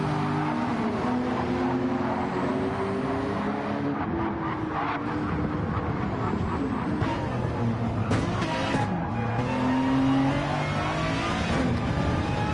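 A McLaren 650S GT3 race car in a sim racing game at Catalunya, its engine roaring loud and steady throughout with shifting revs and gear changes, with other cars audible around it.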